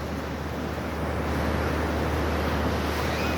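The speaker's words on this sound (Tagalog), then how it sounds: "tunog ng alon ng dagat" Sea waves rolling onto a white sand beach, a steady, dense wash of surf with wind noise on the microphone, continuous and fairly loud with no talking.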